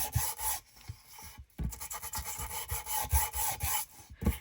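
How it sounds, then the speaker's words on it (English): Steady abrasive rubbing and scraping, close up, in rapid back-and-forth strokes with a brief pause, as a new sanding disc sands along a paper edge. "So I'm just going to sand around the edge of this."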